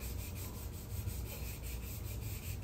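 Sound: fine sanding on motorcycle fork

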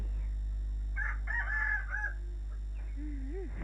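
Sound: rooster crowing

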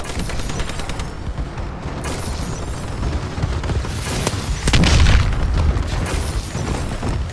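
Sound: friendly bombing run explosions in Call of Duty Advanced Warfare video game

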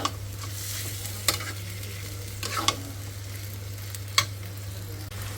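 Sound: tripe being sautéed and stirred in a wok

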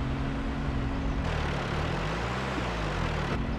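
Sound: John Deere tractor engine revving in Farming Simulator 22 video game

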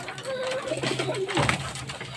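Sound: pigeon cooing

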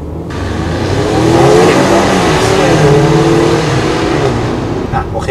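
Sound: Mercedes-Benz A250 AMG engine revving

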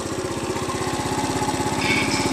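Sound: moped engine running

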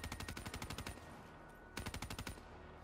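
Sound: gun firing in a video game

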